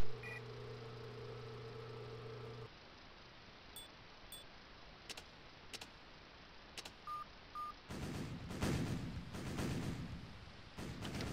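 Naval guns fire in a naval battle video game: electronic tones come first, then a few scattered sharp reports, and finally heavier rumbling blasts over a low engine drone, all fairly quiet.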